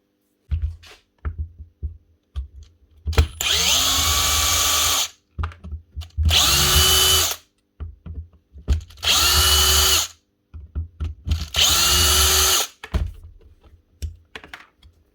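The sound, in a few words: faulty Makita power tool running, possible worn gear or bearing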